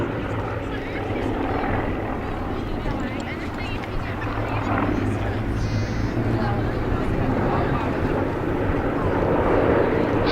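Aircraft flying in formation through a quarter clover manoeuvre at an airshow, heard as a steady, fairly distant engine roar and wash that holds level throughout, with people talking over it.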